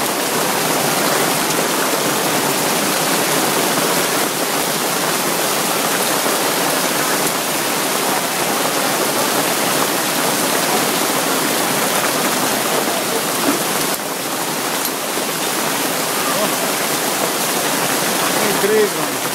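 Steady rain pours down in a dense, continuous hiss that stays even and close throughout, with no talking.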